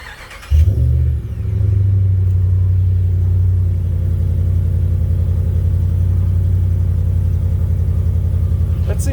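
A 2009-2021 Dodge Ram pickup engine with a MagnaFlow direct-fit muffler cranks and catches, then settles into a loud, steady rumbling idle that runs close by for several seconds.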